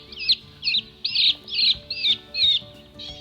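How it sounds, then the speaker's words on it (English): A series of shrill, repeated bird calls, about seven evenly spaced squawks, fairly close against a faint hum of background noise. "It sounds like some kind of bird."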